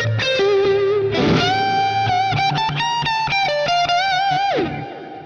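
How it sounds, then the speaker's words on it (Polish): Electric guitar played through a combined overdrive and booster pedal set to low gain, little tone and heavy boost, ringing out sustained, bending notes and chords with a loud, saturated tone that fades at the end. "Mało gainu, mało tonów i dużo boosta."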